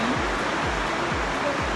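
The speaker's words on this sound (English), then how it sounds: "It's raining heavily." Heavy rain falls outside as a steady, dense hiss of broadband noise, loud and continuous with no break.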